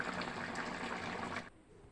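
Water with masala boils in a curry pot, a steady bubbling and churning wash that runs continuously, then drops away abruptly to a faint, quiet background near the end.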